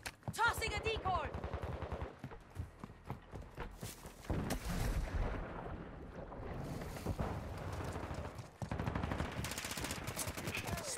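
Heavy gunfire in Call of Duty Modern Warfare II, dense automatic bursts and single shots hammering nearly nonstop and loud, with voices cutting in at times.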